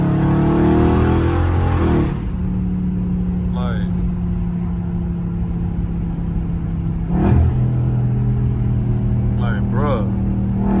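Loud catless Dodge Scat Pack engine downshifting to fourth and accelerating on back roads, a heavy continuous drone with a rise in pitch near the middle, while voices talk over it.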